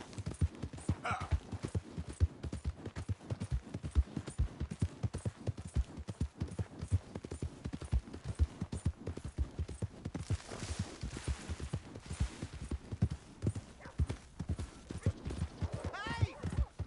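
A horse's hooves clip-clop in a steady rhythmic trot in the video game Red Dead Redemption 2, loud and close, with a brief neigh and some talking.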